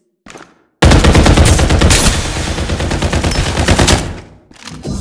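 Rapid automatic gunfire in the Farlight 84 battle game blasts loud and dense for about three seconds after a brief opening shot, then tails off, with another burst starting at the end.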